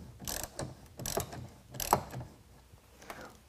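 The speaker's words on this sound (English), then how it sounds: "then tighten down this clamp using a half inch" A half-inch ratchet tightens a clamp for a TruXedo TruXport tonneau cover on a 2021 Ford F-150, making several short bursts of close clicking separated by brief pauses.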